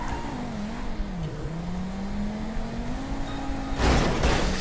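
A car engine in Grand Theft Auto V drones steadily, its pitch dipping and climbing as it revs, before swelling into a louder, rougher burst near the end.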